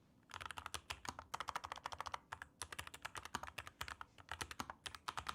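Rapid, steady keystrokes clatter on an Epomaker Carbon 60 keyboard with DSA profile keycaps, low-profile switches and a carbon fiber build. The taps are close and crisp, in quick bursts with short pauses, and no one talks.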